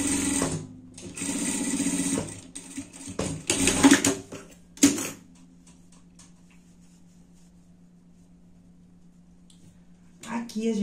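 A sewing machine runs in loud bursts as it stitches a safety seam on a pet garment, rapid mechanical rattling that stops and starts, then falls silent before a brief final run, with a voice speaking in the pause.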